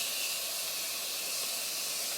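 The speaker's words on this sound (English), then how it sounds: "I'm going to use the Morphe Continuous Setting Mist" Morphe Continuous Setting Mist spraying as one steady, close, loud hiss of fine mist lasting a couple of seconds, with no voices over it.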